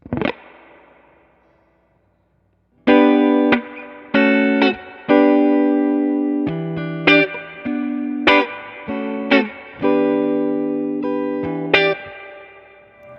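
Clean electric guitar channel with long reverb: single notes and chords plucked in separate phrases, each ringing out into a lingering reverberant tail, loud and close, with no talking.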